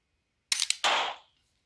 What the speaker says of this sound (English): now let's shoot to calibrate